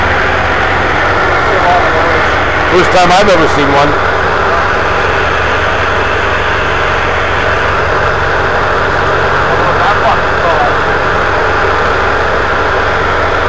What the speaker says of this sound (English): diesel outboard.